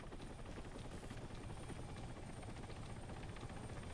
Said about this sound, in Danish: Ja, det er en helikopter, der kommer nu.